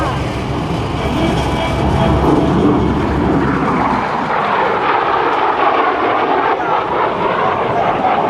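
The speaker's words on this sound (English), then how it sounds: "Here comes the stealth fighter." F-117 Nighthawk stealth fighter making a flyby at a 2006 Joint Services Open House airshow, a loud sustained jet roar that swells and then shifts in tone as the aircraft passes.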